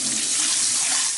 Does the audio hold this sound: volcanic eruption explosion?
no